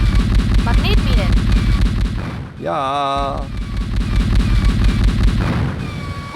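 Magnetic mines go off in the 1995 video game Cyberia: rolling, booming explosion blasts fill the mix almost continuously, with a brief swooping synth tone in the middle and a voice saying a word over the top.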